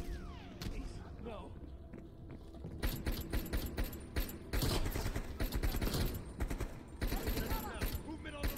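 Heavy gunfire in Black Ops Cold War erupts after a quieter start, with dense fusillades of automatic fire in loud, sustained bursts and short pauses, and voices underneath.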